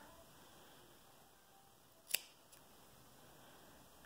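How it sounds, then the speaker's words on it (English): A single crisp snip of scissors cutting through yarn, close and quiet, followed by a faint click in an otherwise hushed room. "take my scissors"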